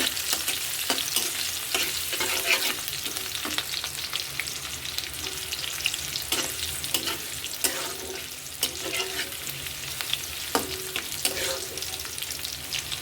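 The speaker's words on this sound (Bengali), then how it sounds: "পেঁয়াজটা ভাজা ভাজা করবো।" Steady, loud sizzling of onions frying in oil, with scattered clinks and scrapes of stirring throughout.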